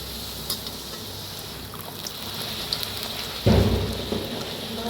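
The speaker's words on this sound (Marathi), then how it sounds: "तेल बी आपलं चांगलं गरम झालेलं आहे तर मस्त अशी तळून घेऊया पुरी" Puris frying in hot oil, a steady dense crackle and sizzle throughout that surges louder partway through, as if fresh dough has just been dropped into the pan.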